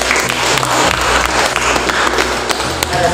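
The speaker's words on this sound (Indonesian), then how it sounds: "Oke, tepuk tangan untuk kelompok 3." A classroom of students applauding presentation group 3 during an observed lesson, brisk continuous clapping with a faint low hum and a few taps beneath it.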